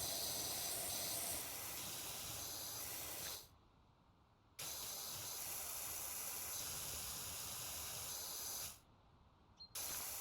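Pressure washer spraying in PowerWash Simulator, a steady loud hissing spray that cuts off abruptly twice for about a second before resuming, with no talk.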